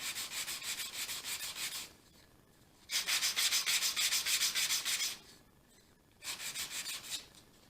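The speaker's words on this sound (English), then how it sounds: "The big thing is wrapping this sandpaper around a dowel" Sandpaper wrapped around a dowel rasps against a wooden coaster in three bursts of quick, rhythmic back-and-forth strokes, close and clear with short pauses between, no talking.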